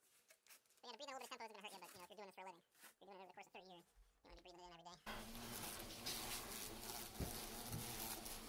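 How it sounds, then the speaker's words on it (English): Dense buzzing of European hornets at a massive nest eaten into a bedroom wall, a loud continuous drone filling the second half after stretches of close talking that give way to it. "These are very large bees, but you'd be surprised how small they can make their bodies."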